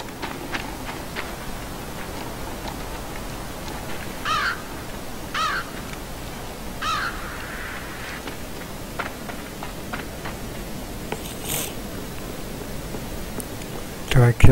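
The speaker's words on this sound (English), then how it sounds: "That's very disgusting noise. That's a huge crow." A huge crow cawing in the Limbo video game, several harsh caws spread through a steady hissy ambient background, with a voice talking at times.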